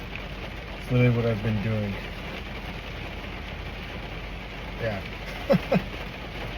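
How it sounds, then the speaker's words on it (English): Heavy storm rain drums steadily on a car from inside the cabin, a constant wash of noise beneath someone talking close by, with a few brief clicks near the end. "I was kind of hoping the rain would slow down"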